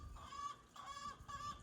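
Backyard chickens in an Arizona garden in midsummer, three faint, evenly spaced clucking calls at a distance, with no talking.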